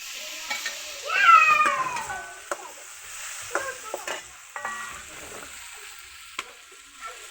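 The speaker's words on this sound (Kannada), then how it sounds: "ಹುರಿದಿದ್ದ ಬೆಂಡೆಕಾಯಿನ ಹಾಕೋತಾ ಇದ್ದೀನಿ" Fried okra is tipped into a hot pan and stirred with steady scraping and a soft sizzle while a cat meows loudly nearby, then makes a few shorter cries.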